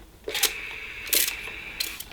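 Three quick hissing spritzes of water from a Morphy Richards 300274 steam iron's spray nozzle, each brief and close, separated by short pauses over quiet room background.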